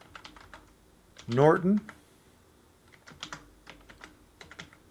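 Keys tapped on a computer keyboard while entering a username at a help desk workstation, a few short clicks before and after a brief burst of speech, fairly close and quiet.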